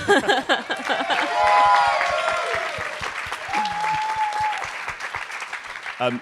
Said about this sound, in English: And a round of applause for Ben.